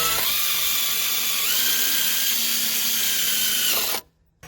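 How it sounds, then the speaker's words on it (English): A power drill drives a screw while an RV PowerGate is installed, giving a loud, close, steady whine that shifts pitch midway and then cuts off abruptly near the end, with no voices. "Get my second screw in here."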